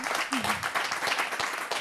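A studio audience claps steadily through the moment on an Italian TV show, a continuous patter of applause with a voice briefly rising over it.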